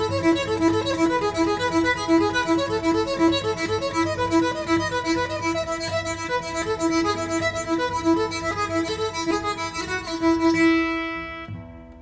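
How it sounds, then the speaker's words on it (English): Electric guitar bowed with a Pickaso bow on a single string, a smooth sustained melodic line of connected notes that swells and glides, then fades out with a lingering ring. "This is a single string technique,"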